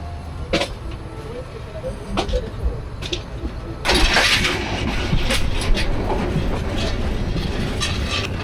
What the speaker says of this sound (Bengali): আমাদের train Jamalpur express 800 Joydebpur railway স্টেশনের 2 নম্বর প্ল্যাটফর্মে প্রবেশ করছে